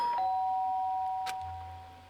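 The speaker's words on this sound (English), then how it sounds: "Sharp sound of the doorbell pierced my sleepy haze and pulled me back into the real world" A doorbell in the Danganronpa video game rings once, a clear tonal chime with a short second strike, sounding close and alone before fading out.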